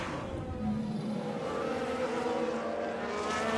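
Roaring engines of Formula 1 race cars in the F1 Manager 22 racing game, a loud continuous drone that swells and shifts without clear separate impacts.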